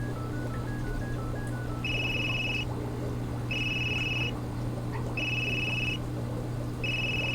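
A phone ringing in the video game Unheard, a repeating electronic ring in four evenly spaced bursts over a steady low ambient hum, with a short run of dialing beeps before the first ring and no talk.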